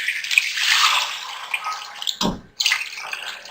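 Chicken stock poured into a pot of nihari, a soft continuous splashing pour with a brief louder gush near the end, close and fairly quiet, no talking.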